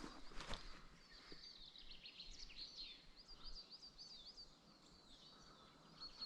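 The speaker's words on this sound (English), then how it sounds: "Just birds singing, tweeting away." Birds chirp and tweet intermittently in a quiet, remote countryside spot, with faint, scattered high calls over soft background stillness and one brief sharper sound near the start.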